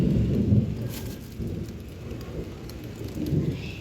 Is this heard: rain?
yes